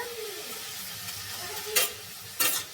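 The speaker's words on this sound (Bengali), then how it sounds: "আমার তেলটা গরম হয়ে গেছে এবার এর মধ্যে দিয়ে দেবো আমি বাঁধাকপি নুন মাখিয়ে রেখেছিলাম" Salted cabbage dropped into hot oil for a vegetarian khichuri meal, a steady frying sizzle with two sudden loud bursts of crackling spatter as the pan is stirred.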